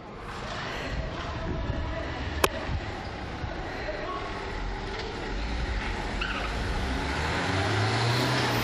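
Gendarmerie cars pull away to start a chase, a broad rumble of engines building toward the end, with one sharp knock partway through and voices talking over the traffic noise.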